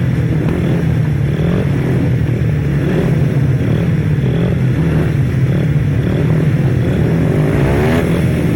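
A pack of 250cc grasstrack racing motorcycles at the Battle of Britain meeting roars loudly and continuously, engines droning and revving together as they pass near.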